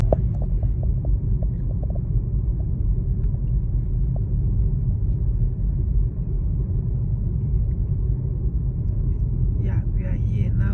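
A VW Golf 7 TSI creeping along at walking pace over a rough, uneven road, giving a constant low cabin rumble with a few light knocks and rattles near the start, steady throughout with no talk.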